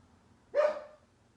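A single sharp dog bark rings out indoors, one short loud burst standing alone against a quiet background.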